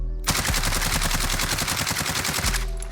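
Rapid automatic gunfire from a video game weapon, a sustained burst of evenly spaced loud shots lasting over two seconds, close and dense with no talk.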